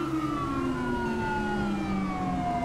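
A police car siren wails steadily in LSPDFR, a GTA V police mod, from an LSPD cruiser with its lights on. The tone slides and repeats at a loud level over low engine rumble.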